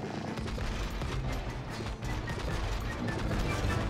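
Rapid sustained gunfire aimed at a giant octopus arm in the video game It Takes Two, a dense continuous barrage of shots layered with mechanical clatter and crashing effects, loud and close throughout.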